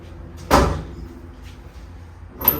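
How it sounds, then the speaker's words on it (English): Car door of the Z2H8 softly closed with newly installed window glass: one close, muffled thud near the start, followed by quieter shuffling and a faint second knock at the end. "In theory, when I close the door, it should work. So I'm gonna do a soft close first."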